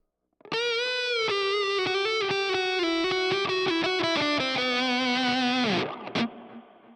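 A sustained distorted electric guitar lead from an Orange Rockerverb amp and Boss GT-1000 plays a bending melodic line, loud and close, ending with a brief squealing slide.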